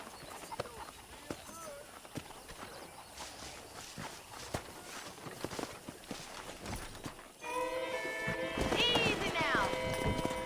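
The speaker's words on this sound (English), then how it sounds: "Let's see if we can't wrangle some horses." Horses in the Red Dead Redemption game, hooves clip-clopping at a walk under ongoing voices, then a loud, close whinny rising and falling near the end.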